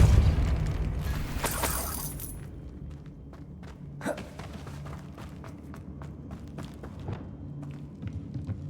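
A Depulso force spell from Hogwarts Legacy lands with a heavy booming blast and deep rumble. A sharper burst follows, then a fading low tail with scattered footstep-like thuds and taps in a dungeon.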